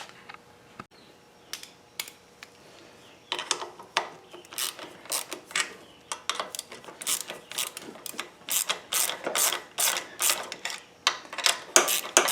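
Rapid bursts of socket-ratchet clicking on a Craftsman T100 lawn tractor, starting sparse and then running as quick, close, loud repeated strokes, with no talk.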